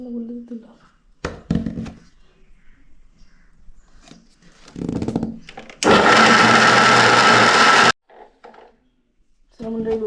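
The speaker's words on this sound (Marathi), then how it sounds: "चला मिक्सरला लावूया चलो" A kitchen mixer grinder grinding karvanda chutney with a little water whirs loudly for about two seconds, a dense steady roar that stops abruptly, with brief clunks and quiet talk around it.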